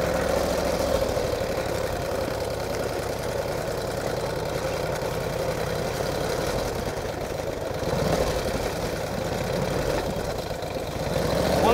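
A 1949 Harley-Davidson Panhead enduro racer with a rigid rear end thuds along on the road, its engine a steady low rumble under wind noise throughout, with no speech.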